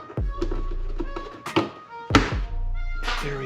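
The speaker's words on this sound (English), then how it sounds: "take our push pins, reinstall these rear push pins" Plastic push pins being pressed into the rear of a Kemimoto tablet mount box on a Kawasaki KRX, heard as four close, dull thunks and taps at uneven intervals over a steady low hum.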